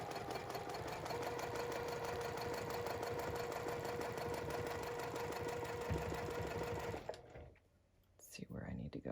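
A Juki TL-2010Q sewing machine stitches steadily while quilting with rulers, its fast needle chatter close and constant for about seven seconds, then it stops. Brief handling noise and a short resumption follow near the end.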